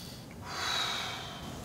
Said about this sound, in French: Au début, une respiration peut-être un peu courte et un peu plus longue, petit à petit.